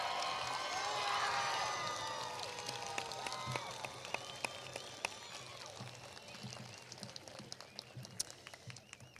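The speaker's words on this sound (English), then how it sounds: "Can we get one more round of applause for the class of 2021?" A crowd at a 2021 high school graduation ceremony gives another round of applause for the graduating class, broad clapping with some cheering that gradually thins over several seconds.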